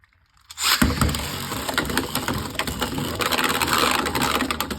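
A Beyblade X top is launched into a Chaos Core stadium and battles there, giving a sudden loud start followed by a continuous dense grinding, rattling clatter of spinning plastic and metal parts colliding, close and with no talk.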